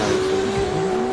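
Drift cars at a semi-pro drift competition revving hard as they launch, a loud, close, sustained engine whine blended with tire squeal, no voices.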